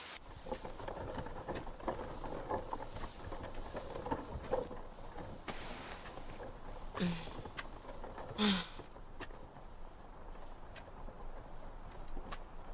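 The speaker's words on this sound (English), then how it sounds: "Hey, it's raining out here." Steady rain falling outdoors, a continuous hiss with low thunder rumbles and a few louder bursts, fairly quiet throughout.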